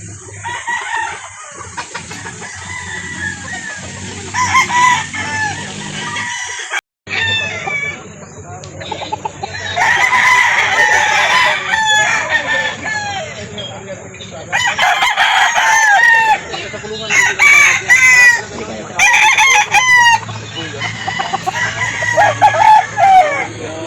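Several roosters crow and cluck at a gamefowl sale in Calauan, Laguna, with overlapping crows rising in loud bursts over a steady background of clucking and someone talking now and then.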